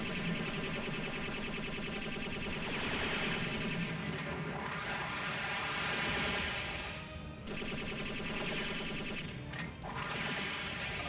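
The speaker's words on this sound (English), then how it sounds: "there goes all my fucking missiles." Missiles launch in a relentless barrage in the Robotech: Battlecry video game, a dense, loud, continuous volley of rapid explosive firing effects that rolls on for about eleven seconds with only brief dips and no talking.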